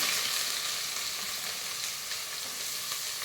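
Onions, bay leaves and a piece of cinnamon fry in hot oil and ghee for a Dindigul seeraga samba biryani. A loud, close, continuous hiss of frying holds steady throughout, with no voices.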